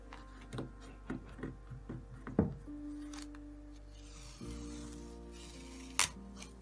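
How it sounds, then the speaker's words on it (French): Quiet, intermittent crackling and ripping as tape is peeled away in short pulls, with a brief sharp snap near the end. "enlever le scotch"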